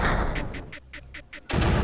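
Mortar fire in the strategy game Creeper World, a loud burst of shots opening the moment, then a rhythmic run of about six evenly spaced launches, before the din swells again.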